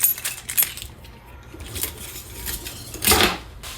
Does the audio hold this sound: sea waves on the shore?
no